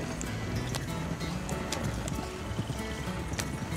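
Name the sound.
horse hooves clip-clopping in Red Dead Online video game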